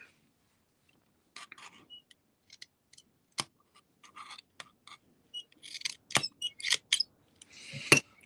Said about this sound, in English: Dull ass scissors.